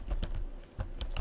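Computer keyboard typing while editing a MySQL config file, a few separate bursts of key clicks with a short pause mid-way, close and moderately quiet.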